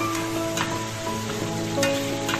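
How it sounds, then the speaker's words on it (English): Meat sizzles steadily in a hot frying pan, a dense close crackle of browning with occasional stirring scrapes, continuous and without talk. "While the meat is finished browning"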